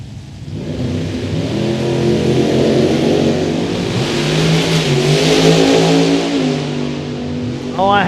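A drag racing car launches off the line at a drag strip and pulls hard, its loud engine climbing and roaring through the run, briefly easing off and coming back on before a voice cuts in at the end.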